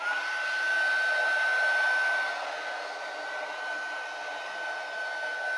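A hair dryer blows steadily on a painted junk journal page, a close, continuous whooshing hum with a thin whine that drops slightly in level partway through, no talking.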